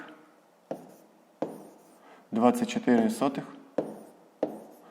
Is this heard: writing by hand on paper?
yes